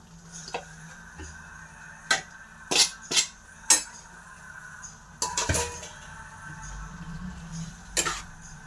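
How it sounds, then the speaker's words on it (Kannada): Fried okra is added to boiling yogurt masala and stirred in a pan: a quiet simmer broken by several sharp metallic clinks and scrapes of a spoon against the pan, spaced irregularly. "ಒಂದು ಕುದಿ ಬಂದಮೇಲೆ ಫ್ರೈ ಮಾಡ್ಕೊಂಡಿದ್ವಲ್ಲ ಬೆಂಡೆಕಾಯಿ ಹಾಕ್ಕೊಳ್ಳಿ"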